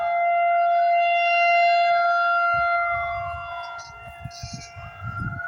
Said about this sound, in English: The emergency siren in case there's a tornado.